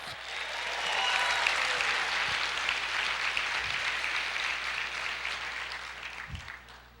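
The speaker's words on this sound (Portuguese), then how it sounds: "Aplauda o Senhor" A church congregation applauds during a Portuguese-language sermon, clapping that swells within the first second, holds steady and thick, then fades near the end.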